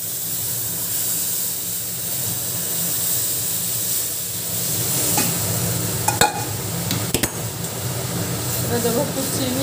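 Papaya stir-fried in oil with chilli and panch phoron gives a steady sizzle and hiss, with a few sharp spatula clinks against the pan near the end.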